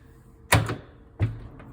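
A hidden closet door in a Howard Johnson hotel room in Anaheim, heard as two close, solid door thuds about a second apart, with no talking.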